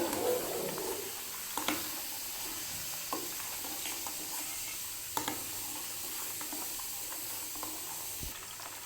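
Buffalo-milk butter melting down into ghee in a pan, a steady close sizzle and soft hiss with occasional crackling pops, with no talking.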